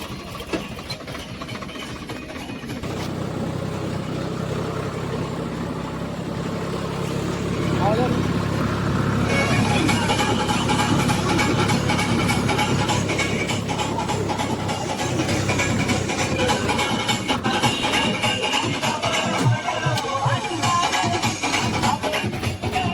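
A tractor engine runs steadily throughout on a farm, a low rumbling drone that grows louder partway through, with some talk mixed in.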